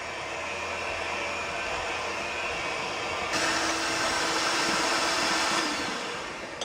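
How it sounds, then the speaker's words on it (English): An electric hand mixer beats egg and sugar for an apple cake pie, a constant loud whirring drone that shifts slightly higher in pitch partway through as the speed changes, close and with no talking. "we're going to beat this really good with a mixer until it's kind of creamy"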